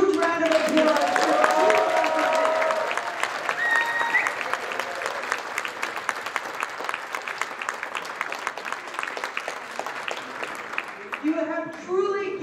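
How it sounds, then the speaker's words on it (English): A large audience claps in sustained, dense applause for the two bidders at a World Pride 2021 bid event, with some cheering and voices mixed in, fading near the end. "I'd like to give our two bidders one more huge round of applause."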